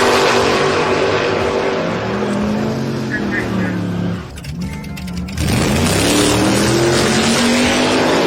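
Roaring engines of pickup trucks drag racing scream at full throttle as the vehicles launch and pass, loud and close, with an announcer talking over them.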